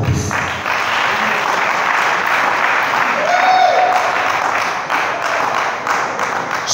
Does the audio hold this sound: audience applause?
yes